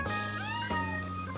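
A pet kitten gives a drawn-out meow with a gliding pitch, close and moderately loud, then a second shorter cry.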